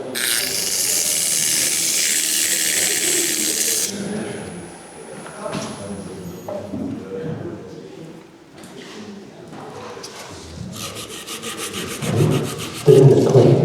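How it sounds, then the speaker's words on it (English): Wood-turned piece with holes spinning on a lathe while being sanded at a woodturners' meeting, giving a loud, steady broadband rubbing hiss that stops and then returns with a rhythmic fluttering, under some talk and background noise. "So now you can hear the holes."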